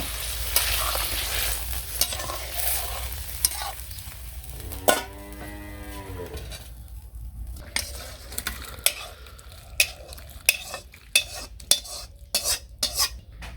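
Bora lentil fritters fry in hot oil in a village kitchen, giving a steady close sizzle while being stirred, with metal scrapes and a run of sharp utensil clicks and taps toward the end.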